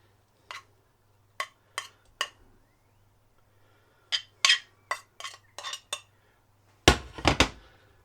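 A spoon spreads sushi rice onto a rolling mat for an inside-out Spam sushi roll, making sparse, quiet clicks and taps that come alone or in short clusters against near silence.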